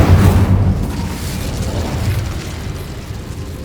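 An Incendio fire spell from the Hogwarts Legacy video game bursts with a loud, deep booming whoosh at the start that rumbles on and slowly fades.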